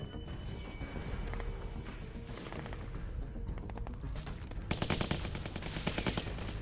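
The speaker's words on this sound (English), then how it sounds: "Y'all got AKs, man, and you guys are still shooting so much!" Bursts of automatic rifle fire crackle in a zombie survival game scene set to tense music, with a dense rapid volley building in the final seconds.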